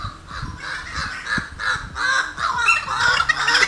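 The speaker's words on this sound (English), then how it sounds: "Birds have been so loud lately. Like, they've been really loud." Loud blackbirds calling outdoors, a dense run of harsh, repeated calls overlapping one another with no talk.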